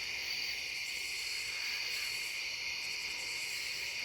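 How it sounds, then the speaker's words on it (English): Crickets chirping at a lake campground, a steady high-pitched shimmering drone with faint pulsing, quiet and continuous, with no voices. "The sound of the crickets"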